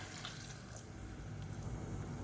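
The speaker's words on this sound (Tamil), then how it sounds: "நல்லா சூடு பண்ணிவிட்டு தண்ணியை சேர்த்துக்கோங்க." Water pours steadily into a heated cooking pot for moong dal pulao, a continuous splashing, gurgling stream heard close up with no talking.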